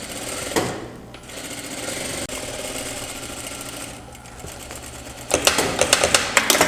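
A sewing machine stitches the seam of a pair of trousers with a rapid mechanical clatter in short runs, ending in a louder, faster burst of stitching.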